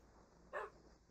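A Minecraft dog gives a single short bark, clear but soft, over a low steady background hum.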